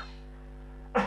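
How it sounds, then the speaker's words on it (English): A single short cough bursts out near the end after a second of quiet hum, close and fairly loud. "So I'm having some cough"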